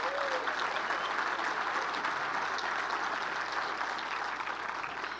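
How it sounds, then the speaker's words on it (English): Sustained applause from a crowd at Fresno's 2014 State of the City address, a dense even patter of clapping hands that holds steady throughout without pause. "Please join me in giving them a round of applause."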